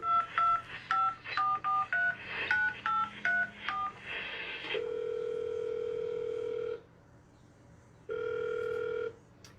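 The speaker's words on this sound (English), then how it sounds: "let me get this guy on the phone" A telephone is dialed for a radio call: a quick run of close touch-tone beeps in an irregular rhythm, then longer steady ringing tones that stop, pause and start again.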